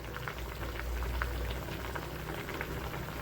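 Vegetables for sambar bubble in a covered pot, a steady close simmer with soft popping and gurgling throughout and no talk.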